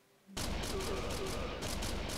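Rapid gunfire from the arcade shooter Virtual Cop 2 bursts in suddenly and keeps going as a dense, loud volley of repeated shots, with a short quiet lead-in before it.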